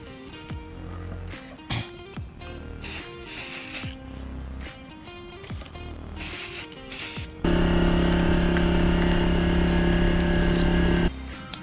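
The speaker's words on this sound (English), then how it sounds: "I just stick them in a cardboard box and then I spray paint them." Clicks and rattles of handling bolts in a cardboard box, then a long, loud continuous hiss of an aerosol spray paint can for several seconds before it stops.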